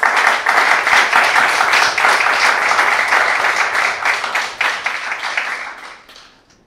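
Sustained audience applause at a startup award ceremony at Korea University, with many hands clapping steadily and fairly loud before fading out at the end, with no talk.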